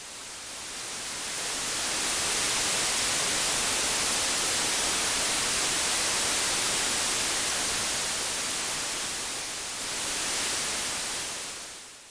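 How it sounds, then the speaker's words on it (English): Steady broadband white noise from an Ommarunn software synthesizer, swelling in over the first couple of seconds, holding level, then dipping near the end, with no other sound. "White noise at last."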